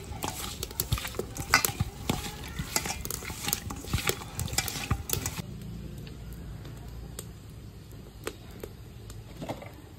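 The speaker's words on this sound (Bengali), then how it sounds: "মাছগুলোকে নুন হলুদ দিয়ে মেখে নেব" Fish is mixed by hand with salt, turmeric and oil, giving soft, irregular squelching and scraping noises against a bowl, busier at first and then sparser and quieter.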